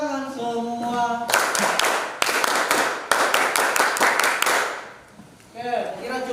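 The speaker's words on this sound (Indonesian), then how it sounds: "Tepuk tangan untuk kelompok 3." A classroom group breaks into lively hand clapping for one team, a burst of dense, crisp claps lasting a few seconds, bracketed by a voice speaking before and after.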